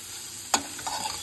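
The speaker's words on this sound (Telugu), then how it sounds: "ఇప్పుడు నేను జస్ట్ ఆయిల్ వేసి అందులో చిల్లీ ఆయిల్ పెట్టి తర్వాత వెజిటబుల్ వేసాను. ఇప్పుడు ఫ్రై చేస్తున్నాను." Vegetables fry in oil with chili oil, giving a faint steady sizzle with one sharp clatter of stirring partway through.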